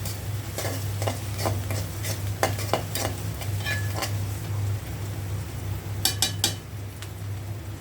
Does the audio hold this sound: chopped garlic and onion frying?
yes